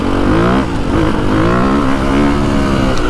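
A Ducati 450 Desmo 450MX motocross bike engine revs loud and close, a smooth rising and falling buzzing drone that climbs through the RPM range without pause.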